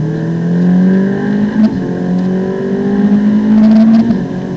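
Ferrari 458 Italia on track at Monza, engine accelerating and revving steadily through the gears, loud and close, rising pitch with a brief shift dip, no talk.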